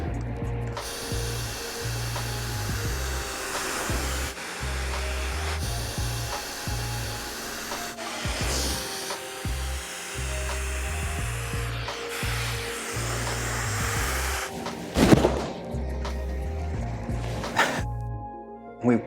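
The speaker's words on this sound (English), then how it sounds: "and we'll blow dry from there." A hair dryer blow-dries a woman's hair after a scissor cut in a salon, a steady close whooshing hum whose pitch and airflow shift as it moves, with brushing sounds throughout.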